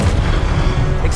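A spell bursts in Hogwarts Legacy with a loud, dense boom and rumbling low impact that fills the whole moment, with no talk over it.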